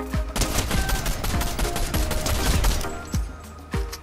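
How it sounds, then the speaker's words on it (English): Rapid gunfire in Fortnite, a close, loud run of sharp shots in quick bursts lasting several seconds, broken by a brief pause before a few final cracks, with no talking over it. "Gun goes pew pew pew."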